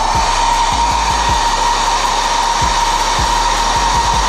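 A heat gun heats carbon fibre wrap on a BMW wheel centre hub badge, a loud, steady close-up blowing whine with faint low knocks underneath.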